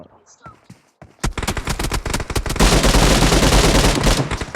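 Video game gunfire: a few scattered shots, then dense rapid automatic bursts that grow louder and merge into a continuous roar, with a voice talking underneath.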